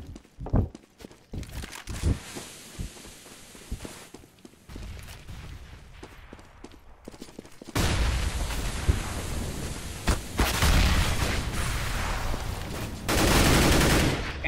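Counter-Strike match on the Cache map, with bursts of heavy gunfire, footsteps and the loud, dense rattle of automatic weapons building toward the end.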